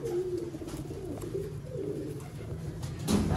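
A Sialkoti pigeon coos in soft repeated low calls, close by, with faint background hiss and no talking.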